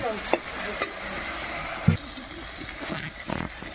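Spice paste for a snakehead fish curry sizzles and fries in hot oil, with a steady crackle broken by a few sharp stirring scrapes; faint talk can be heard in the background.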